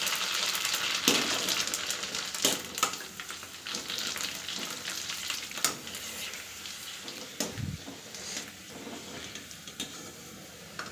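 Fuchka (panipuri) puris fry in hot oil with a soft, continuous sizzle and bubbling. Scattered light clicks and taps from the pan and utensils sound through it, fairly quiet and close.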